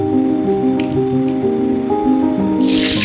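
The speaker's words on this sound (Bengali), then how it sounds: "তো প্রথমে আমি দেবো বন্ধুরা গোটা গরম মশলাটা" Whole garam masala spices hit hot oil for a chicken curry, and a sudden loud sizzle bursts in near the end over steady background music.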